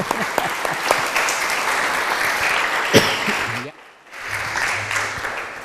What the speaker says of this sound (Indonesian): tepuk tangan untuk Bapak-bapak